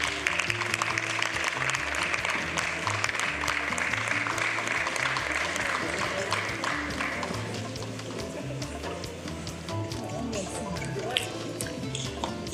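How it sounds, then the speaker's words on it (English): Audience applause at a public health event, dense steady clapping from a crowd filling the scene, loud and continuous before thinning slightly toward the end. "A round of applause for him, please."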